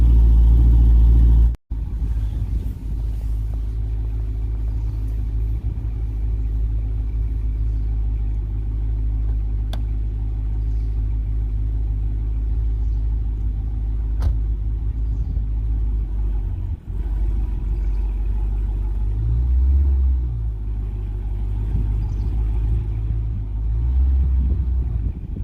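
A Dodge Charger Hellcat SRT rumbles steadily while driving through snow, its deep engine drone loud and close throughout with slight swells as the throttle changes.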